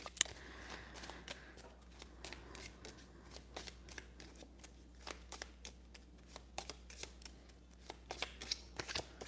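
A deck of cards shuffled repeatedly up close, with crisp riffling bursts and flicks in an irregular rhythm, quiet and without talk, before a spread of tea leaf reading cards.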